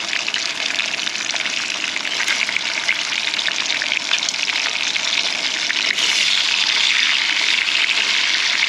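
Bacon strips crackle and spit steadily in their own rendered grease, a dense, continuous close-up sizzle that swells slightly louder toward the end, with no talking.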